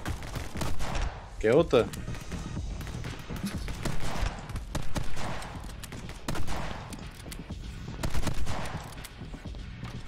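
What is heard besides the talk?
gunfire in the video game My Friend Pedro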